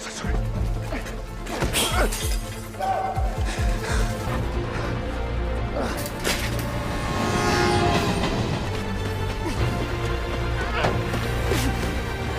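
A passing train in the heist film Army of Thieves, with a continuous heavy rumble and clattering wagons, metallic bangs and thuds over the top, and a horn-like tone, loud and close throughout.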